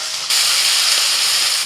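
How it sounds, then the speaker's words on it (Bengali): Onion paste hits hot oil with frying chopped onions, bursting into a sudden loud, steady sizzle that hisses on continuously up close, with no voices. "পেঁয়াজ ভাজা হয়ে গেছে, এবার দিয়ে দিচ্ছি পেঁয়াজ বাটা"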